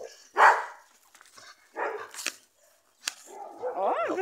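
A few high, yappy barks and whimpery yips from a puppy, close by, with short pauses between bursts.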